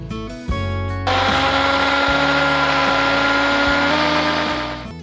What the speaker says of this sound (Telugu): సో నీళ్లు వేసుకున్న తర్వాత మూత పెట్టుకొని మిక్సీ పట్టుకోవాలి.